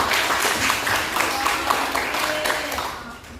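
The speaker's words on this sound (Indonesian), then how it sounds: "Tepuk tangan untuk teman." Students in a classroom clap for a classmate after an answer, a short, brisk round of applause from a small group that stays fairly steady throughout.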